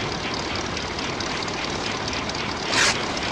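Old propeller airplanes in flight in a 1960s comedy film, a steady broad engine drone throughout with a brief louder swell near the end.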